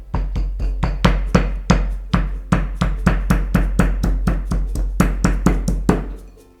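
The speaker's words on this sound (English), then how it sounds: "I'm going to pound it because pounding really gives out more aroma, more flavors" Ginger pounded with a pestle in a mortar, a loud, close series of rapid, even thuds with a deep low thump on each strike.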